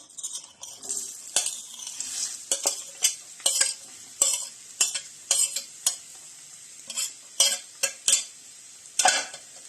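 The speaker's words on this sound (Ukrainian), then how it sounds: "Зараз ми підсмажимо цибульку." Finely chopped onion frying in sunflower oil with a little butter, a steady sizzle broken by frequent sharp scrapes and clinks of a utensil stirring the pan, close and clear with no talk.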